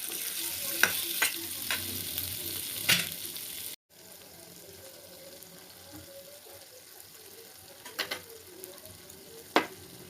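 Peeled amla, Indian gooseberries, stirred and fried over a low flame for pickle, giving a soft sizzle with scattered scraping and clinking of the spoon against the pan, close and fairly quiet.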